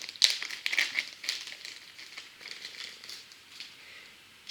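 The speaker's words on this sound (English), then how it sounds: "I have some smaller plastic bags." Small plastic bags are handled up close, giving irregular bursts of crisp crinkling and rustling that fade to quieter crackles before a final sharp crinkle.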